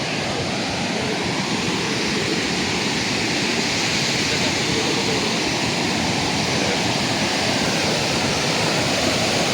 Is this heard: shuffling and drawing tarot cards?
no